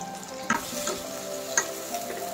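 Small prawns (sugpo) fry in a pan with a faint, steady sizzle, broken by a couple of brief, sharper crackles.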